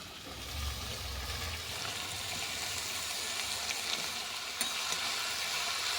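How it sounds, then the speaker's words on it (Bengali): Fresh pumpkin leaf greens stir-fry slowly in a wok, giving a steady broad hiss of frying throughout, faint and even with one or two brief knocks and no voices. "কড়াইয়ে আস্তে আস্তে কষে শাকটা করব"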